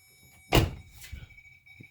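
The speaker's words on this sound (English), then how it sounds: "Open up my driver door" The driver door of a 2002 Chevrolet Silverado 2500HD opens with a single close, sharp unlatching thunk, followed by a softer rattle and faint mechanical clicks in a quiet setting.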